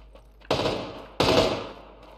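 Two loud gunshots in PUBG sound about 0.7 seconds apart. Each crack is followed by a decaying echo, with no talking over them.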